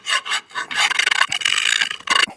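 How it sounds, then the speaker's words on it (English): Scraping and rasping as rust is cleaned off the edge of a brake caliper piston on a 2011 Ford Fiesta, with close, uneven strokes broken by short pauses. "the edge of this piston is a little bit rusty. I'm gonna just clean it up a little bit."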